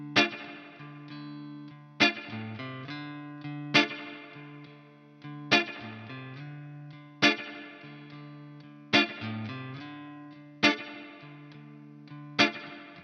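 Electric guitar with effects plays the opening four bars of a slow minor blues: struck chords ring out roughly every one and a half seconds and decay between hits, close and clear with no talking.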